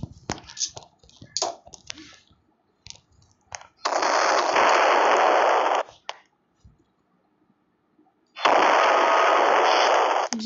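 Assault rifle fire from the Roblox Brookhaven game comes in two long, sustained automatic bursts, each several seconds, preceded by scattered clicks and shorter pops, with quiet gaps between.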